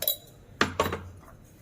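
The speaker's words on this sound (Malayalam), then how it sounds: "ഇത് നമുക്ക് നല്ലവണ്ണം കലക്കണം." A metal spoon clinks twice against a bowl while stirring curd batter with baking soda for Mysore bonda, sharp and close, in a quiet kitchen.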